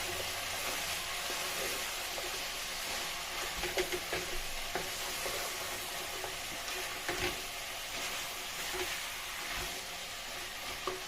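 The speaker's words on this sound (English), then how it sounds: "Going to mix it together." Spaghetti bolognese sauce with vegetables sizzles steadily in a pan while being stirred, with a continuous frying hiss broken by soft scraping and clinking of the utensil, close and alone.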